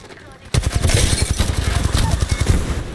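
Rapid bursts of automatic gunfire from an Apex Legends firefight ring out loud and close after a quiet half-second, a dense rattling stream of shots continuing to the end while players talk over it.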